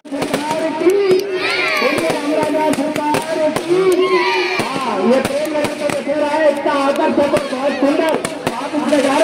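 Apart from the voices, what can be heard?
fireworks display at Dussehra celebration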